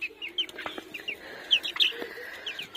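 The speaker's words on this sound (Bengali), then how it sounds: "এই ছোট মুরগির বাচ্চাটা এই যে চলে আসছে আমার কাছে।" A small chicken chick peeping close by, a series of short, high, bright chirps scattered irregularly over a quiet background, no voices.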